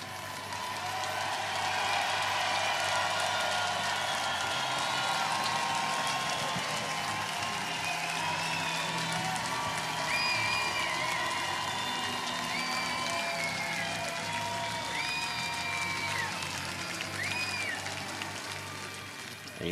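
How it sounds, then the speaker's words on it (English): Michigan fans at a College World Series Finals baseball game against Vanderbilt give a standing ovation, a broad, sustained wash of distant clapping and crowd noise with faint whistles and cheers. "Much, much deserved round of applause and standing ovation for Tommy Henry."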